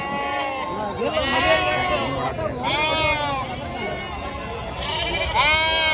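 Sheep and lambs bleat repeatedly at a busy sheep market, several loud nearby calls overlapping with crowd chatter and people talking throughout.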